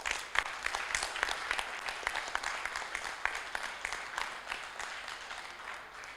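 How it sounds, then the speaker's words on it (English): An audience claps for a chef at an oncology event: a dense, steady round of many hands, sustained throughout at moderate volume and slowly tapering toward the end. "all a big clap for our chef"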